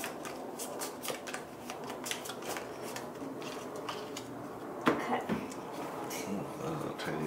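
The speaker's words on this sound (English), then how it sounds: "So I just shuffle them back into my deck." Playing cards from a collectible card game deck being shuffled by hand, a steady papery riffling and rustling texture running throughout with one sharper snap near the end, under faint room background.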